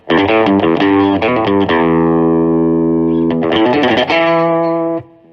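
Clean, punchy electric guitar through a Vox VX15GT amp set to the AC30 model, with spring reverb and mid EQ: strummed chords, a long sustained ringing chord, then more quick strums, loud and alone.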